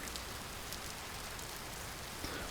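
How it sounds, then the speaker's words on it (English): Rain falls in the video game Vintage Story, an even, dense hiss of drops on surfaces that holds steady and soft throughout with no talking. "Feels like the rain is going away too."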